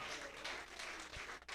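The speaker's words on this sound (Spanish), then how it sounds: "Dale un aplauso con alabanza." A brief burst of congregational applause in a church service, an even, soft spread of many hands clapping from the room, continuing without pause for a moment before thinning near the end.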